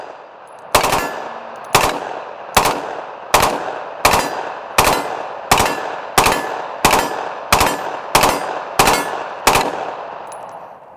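Gunfire strikes a hard armor plate during a ballistic test, about a dozen sharp, loud shots fired at a steady semi-automatic pace with ringing metallic decay after each, no talking.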